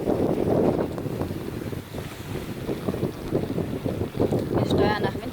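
Strong wind roars and buffets the microphone aboard a sailboat running at about 7 knots in freshening 17–18 knot breeze, with a voice speaking under the gusty rumble.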